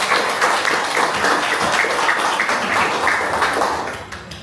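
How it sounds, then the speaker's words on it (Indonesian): Steady applause from an audience of exam participants at an amateur radio gathering, dense clapping that continues evenly for several seconds before starting to fade at the end. "Tepuk tangan kemudian."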